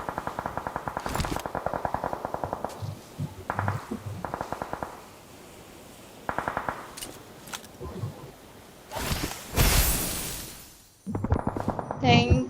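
Rapid automatic gunfire crackles in sharp, repeated bursts inside a PUBG Mobile match, broken by pauses and a louder blast near the end, with players talking over it.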